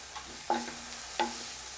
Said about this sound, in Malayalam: ക്യാപ്സിക്കം ഒന്ന് ചെറുതായിട്ട് വഴറ്റിട്ട് വരട്ടെ